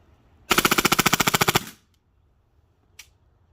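A Krytac airsoft gun with a SilencerCo Maxim 9 suppressor rips off a single fast full-auto burst of roughly a dozen evenly spaced shots over about a second, close and loud, followed by silence and one faint click.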